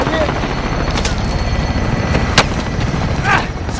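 Enemy helicopter and gunfire in Call of Duty Modern Warfare: a continuous rotor-like rumble with sharp isolated gunshot cracks and a brief whistling burst, game effects dense and loud throughout.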